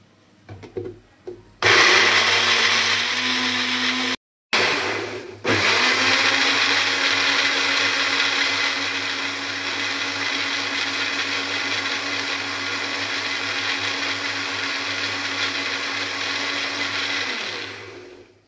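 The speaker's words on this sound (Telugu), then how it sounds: "మిక్సీ పట్టేద్దాం, మనము పేస్ట్ లాగా చేసేసుకుందాం." An electric mixer grinder grinds coconut and poppy seeds into a paste for chicken curry. A few short bursts lead into a loud, steady whirring that runs for about thirteen seconds before it winds down.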